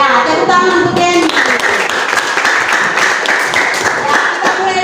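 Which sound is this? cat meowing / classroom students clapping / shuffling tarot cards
classroom students clapping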